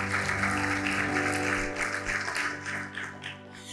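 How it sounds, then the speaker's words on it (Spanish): Church congregation applauding the Lord during a Bible study service, a steady wash of clapping from many hands that holds at an even level throughout, with no speech over it. "Usted le puede dar un aplauso al Señor."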